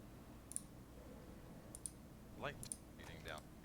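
A computer mouse clicks a few times, faint and sparse, during a livestream of a Souls-series boss fight. The clicks sit over a low background hum with hints of a voice.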